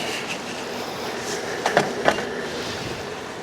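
An iGarden K36 robotic pool cleaner running underwater gives a steady wash of churning, rumbling noise with a few brief clicks and knocks near the middle, close and continuous with no voices.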